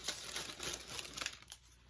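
Crinkling plastic and snipping as scissors cut open a white cake mix bag, a few close, quick rustles and clips.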